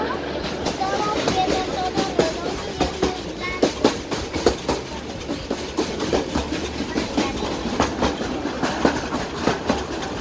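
A train running along a railway line, steady rumble with rhythmic clickety-clack of wheels over rail joints, loud and close, no talking.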